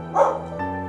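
A dog gives a single loud, close bark that trails off into a brief whine, heard alone without speech.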